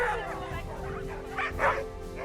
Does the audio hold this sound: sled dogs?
yes